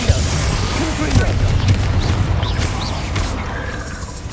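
A Confringo fire spell exploding in Hogwarts Legacy during a fight with spiders, a loud rumbling blast over dense combat noise, with spoken voices in the mix.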